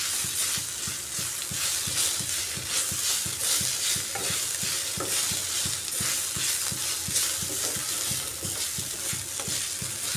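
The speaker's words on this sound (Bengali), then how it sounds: "পেঁয়াজের সাথে আদা রসুনটাকেও আমি আরও কিছুক্ষণ ভালো করে ভেজে নিচ্ছি।" Onion, ginger and garlic fry in a pan with a loud, dense sizzle, and a spatula stirs in quick repeated scrapes that form a busy rhythm throughout.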